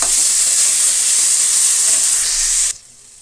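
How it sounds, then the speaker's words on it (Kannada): Tomatoes fry in a pan with garlic and ginger, giving a loud, close, steady hiss and sizzle that cuts off abruptly near the end, leaving near silence. "ಟೊಮೆಟೊ ಕೂಡ ಫ್ರೈ ಆಗಲಿ."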